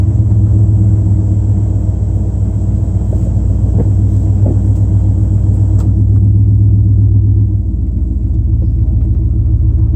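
Pickup truck with a Powertrax lunchbox rear locker driving through snow, a steady loud low engine rumble and drone that holds evenly, then drops slightly near the end, with no voices.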